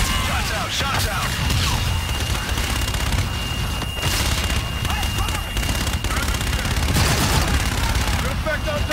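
Gunfire and a strike on a target in the game Call of Duty Infinite Warfare, a steady loud barrage of shots and booms running throughout with radio-style voices talking over it.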